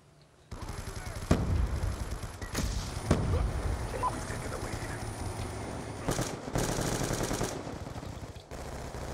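Machine gun fire in a Call of Duty match, sustained close bursts of automatic fire with sharp individual cracks, over continuous battlefield noise for most of the clip.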